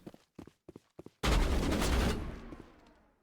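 Gunfire in Mass Effect: a handful of sharp, separate shots pop at first, then a loud sustained blast of fire roars for about a second before fading out in a long decaying tail.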